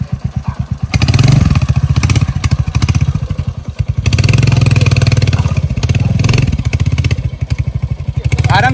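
A Royal Enfield Hunter motorcycle thumps close by with a loud, rhythmic single-cylinder idle, rising into surges of revving on a trip to a beach, then settling back to its steady beat.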